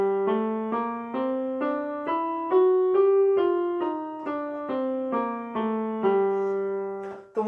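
A melodic minor scale played note by note on a concert band instrument, about a dozen steady sustained tones stepping in a regular rhythm, close and clear, alone without voices.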